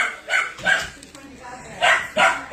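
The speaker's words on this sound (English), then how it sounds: "This room's going to be kind of loud, just a warning. We got quite a few cute puppers in here." Several puppies in a loud room yip and bark in short, high bursts, close by and repeated in a quick uneven rhythm, with a person talking over them.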